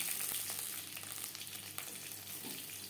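Curry leaves and slit green chillies frying in hot oil in a pan: a steady, dense sizzle and crackle, close and even throughout, with no talking.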